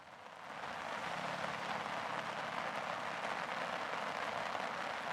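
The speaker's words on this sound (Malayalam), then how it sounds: "ഇന്ന് രാവിലെ 8 മണി മുതലാണ് കുട്ടനാട്ടിൽ, പ്രത്യേകിച്ച് അപ്പർ കുട്ടനാട്ടിലും ലോവർ കുട്ടനാട്ടിലും ഒക്കെ തന്നെ ശക്തമായിട്ടുള്ള മഴ ആരംഭിച്ചിട്ടുണ്ട്" Heavy rain falls steadily in Kuttanad, Alappuzha, a dense, even hiss of downpour that rises in the first half-second and then holds loud and unbroken throughout, with no voices.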